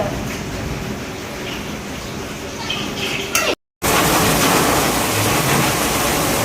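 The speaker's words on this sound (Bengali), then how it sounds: "এত জোরে এখানে বৃষ্টি হচ্ছে" Heavy rain pours down steadily as a dense, continuous hiss that fills the scene, briefly cut off by a short gap before resuming just as loud.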